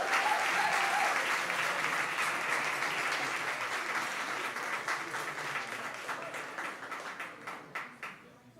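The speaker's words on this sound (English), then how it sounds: "I'm assuming you're applauding because of the winning numbers." Audience applause at an evening speakeasy-style event, a dense wash of many hands clapping that fills the space loudly, then gradually thins toward the end with scattered louder individual claps.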